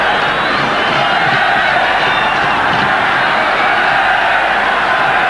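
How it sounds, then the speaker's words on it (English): A packed football stadium crowd roars for Zambia in a 1994 African Cup of Nations match against Nigeria, a loud, dense, unbroken wall of cheering and shouting. "Now the crowd roaring Zambia on."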